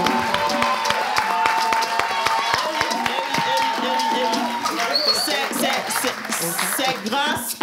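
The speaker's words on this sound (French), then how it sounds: "aidez-moi à faire un tonnerre d'applaudissements à la boutique Authentique" Applause at a contest finale: a crowd claps with scattered cheers and chatter, while music plays underneath, and it tapers off near the end.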